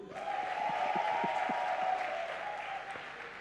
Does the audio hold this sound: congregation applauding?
yes